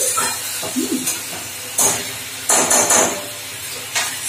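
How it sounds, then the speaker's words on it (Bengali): Potato and pointed gourd fry in a pan while a utensil stirs them, with scraping knocks and clatters against the pan over a steady sizzle, close by. "আমি দেখো আলু আর পটল দিয়ে আমি সুন্দর করে এটা সুন্দর করে নেড়ে নেড়ে দিচ্ছি"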